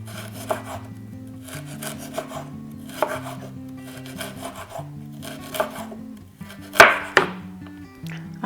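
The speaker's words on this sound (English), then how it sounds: "So just cut them into thin slices." A kitchen knife slices fresh ginger into thin slices on a board, giving a run of soft, steady rhythmic cuts under quiet background music, with one sharper knock near the end.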